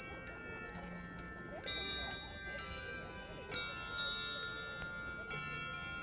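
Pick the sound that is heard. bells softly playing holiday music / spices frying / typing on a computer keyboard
bells softly playing holiday music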